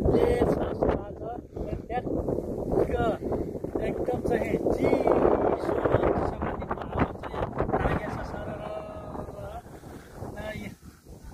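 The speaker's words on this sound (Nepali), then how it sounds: "आज मौसम कस्तो छ एकदम हावा चलिरहेको देखिन्छ" Strong wind roars and buffets the microphone throughout while a person keeps talking over it.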